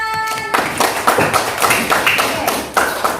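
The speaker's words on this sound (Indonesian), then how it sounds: "Betul. Tepuk tangan." Classroom clapping after a correct answer: a burst of sharp claps from a small group of children, close and uneven, starting after a brief tone and continuing in quick ragged patters.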